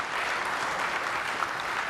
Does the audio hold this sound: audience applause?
yes